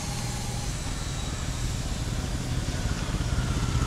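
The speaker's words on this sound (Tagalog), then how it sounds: "Ay, ito may tricycle." A motor tricycle passes on a Philippine street, a steady, fairly loud engine rumble that swells slightly toward the end with continuous traffic noise and no clear talk.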